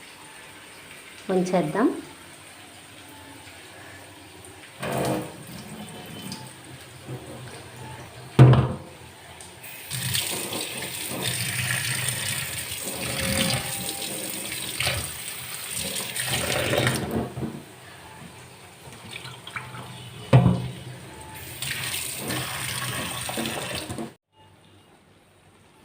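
Vegetables washed under a running kitchen tap, with bursts of gushing water, splashing and handling clatter between quieter gaps, and a short spoken remark near the middle.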